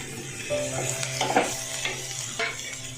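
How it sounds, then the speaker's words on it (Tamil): Onions and tomatoes sautéing in a pan for Kerala kadala curry, a continuous close sizzle broken by repeated scraping strokes of a spoon stirring against the pan, no talking. "அதனால கொஞ்சம் ஓரளவுக்கு வதக்கினா போதும், ரொம்ப வதக்க வேண்டாம்."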